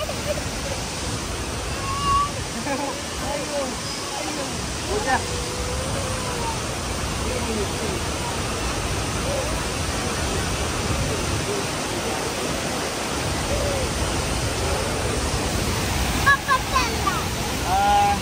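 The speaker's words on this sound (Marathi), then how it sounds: "तर फायनली आम्ही पोचलोय त्या धबधब्यापाशी" Rushing water roars steadily like a waterfall nearby, a constant broad wash of sound with faint voices now and then underneath.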